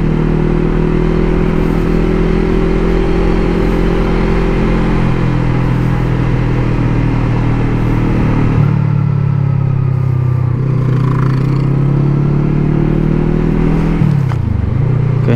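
A motorcycle engine idles with a steady low hum, then shifts pitch and revs briefly near the end, close and loud with no talking over it.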